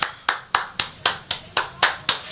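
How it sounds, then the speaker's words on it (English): Hand claps at a Friday-night boys' game, eight sharp, evenly spaced claps in a quick steady rhythm, fairly close and clear. "give him a round of applause"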